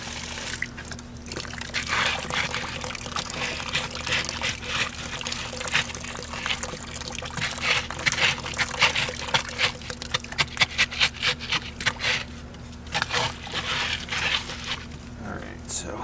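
Water is poured steadily into a wooden fence post hole, a continuous splashing trickle that turns choppier toward the end, with people talking nearby.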